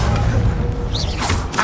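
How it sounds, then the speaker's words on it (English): A fire spell cast in Hogwarts Legacy: a dense, rumbling whoosh of flame with a brief swishing flare partway through, loud and continuous over game ambience. "Incendio."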